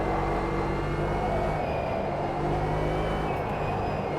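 Mercedes-powered racing car engine in Automobilista 2, heard as a continuous loud drone with steady harmonic whine, the pitch shifting slightly as the throttle is feathered, no voice.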